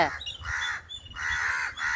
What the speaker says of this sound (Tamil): காக்கையில் உன்னை பார்த்து கத்துது